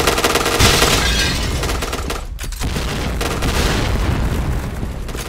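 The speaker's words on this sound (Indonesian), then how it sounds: "Bom apa anjir itu?" Explosion in a tactical shooter video game, a heavy blast with dense crackling debris and gunfire-like bursts, loud and sustained, dropping briefly to a sharp gap mid-way before the roar resumes.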